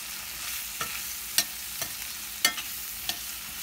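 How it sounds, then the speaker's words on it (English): Raw banana pieces with turmeric are stirred in a pan over low heat, with a handful of sharp spatula scrapes against the pan bottom over a faint, steady frying hiss. "Usually raw banana stick to the bottom of the pan, so keep it low and mix it very well."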